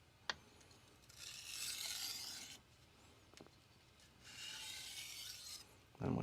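A knife edge is deburred on a diamond sharpening stone, two slow, faint, raspy strokes of gritty scraping separated by a pause, with a few soft taps in a quiet room.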